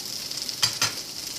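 Black pudding frying in a pan, a steady low sizzle throughout with two brief louder stirring or shifting sounds close together near the middle.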